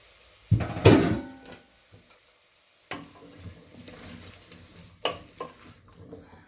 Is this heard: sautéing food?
yes